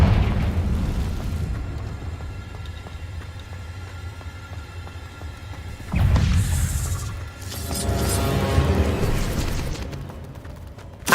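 Confringo fire spell in Hogwarts Legacy: a low rumbling blast swells at the start, fades, then a second sharp explosion bursts loud midway with crackling debris and a rolling tail, plus a final thump.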